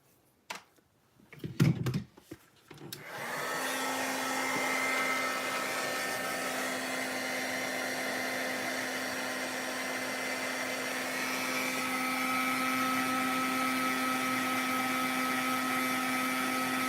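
A heat embossing tool blows hot air in a loud, steady whoosh with a constant motor hum, starting after a few brief handling clicks and running without a break, with no talking.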